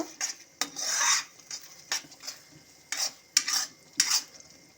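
A spoon scrapes and stirs yogurt into spices and oil in a pan, a series of irregular close strokes, some long and rasping, over a light sizzle.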